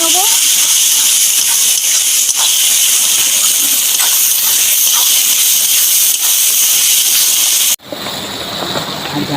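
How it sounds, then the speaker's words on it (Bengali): Ginger and garlic fry with tomato and onion in a pan, a steady loud hiss of sizzling oil that holds almost unbroken, then drops sharply and resumes a little quieter near the end, with no talk over it. "ভালো করে আমি টমেটো পেঁয়াজের সঙ্গে ভেজে নেব।"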